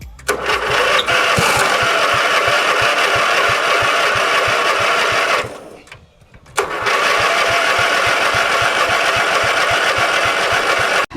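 A forty-year-old Briggs & Stratton engine on a lawn tractor runs loud and steady with a rhythmic chugging pulse, briefly dropping away near the middle before surging back at full volume.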